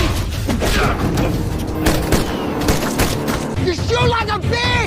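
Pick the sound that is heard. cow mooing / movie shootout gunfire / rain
movie shootout gunfire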